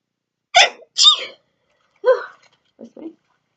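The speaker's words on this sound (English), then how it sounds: "I'm going to sneeze in a minute" A person sneezes twice in quick succession, loud and close, then gives a couple of softer sniffs or breathy noises afterwards.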